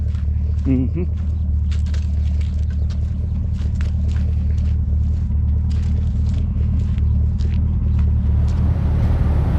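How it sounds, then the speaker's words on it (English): Steady low engine rumble from a small red car cruising at around 60 mph on the road, a continuous droning hum with light road noise and occasional faint clicks throughout. "Man, this little car just loves to run."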